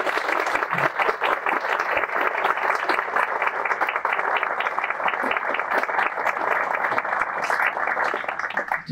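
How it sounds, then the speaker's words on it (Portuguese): Sustained applause from a crowd at an exhibition opening, dense steady clapping filling the whole stretch at an even, fairly loud level. "eu queria uma salva de palmas a essa pessoa."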